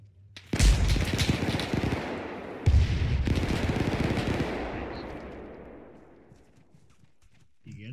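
Automatic weapon fire in an Arma 3 WWII paratrooper co-op battle, two loud bursts of rapid shots, the second longer and fading into a rolling echo, with no talk over it.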